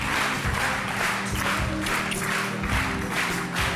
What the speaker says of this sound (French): On les applaudit fort fort les amoureux, tous les deux.